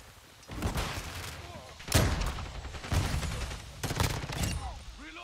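Gunfire in Call of Duty MWII Team Deathmatch on the Embassy map: several loud bursts and sharp shots in quick succession over steady game noise.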